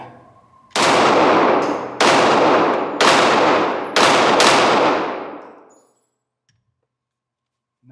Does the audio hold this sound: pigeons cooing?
no